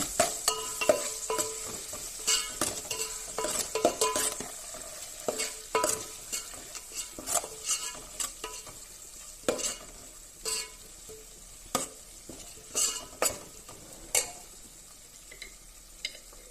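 Tomato rice base fried and stirred in a pan: a steady soft sizzle under repeated sharp scrapes and clicks of a spoon against the metal, close, with no voices.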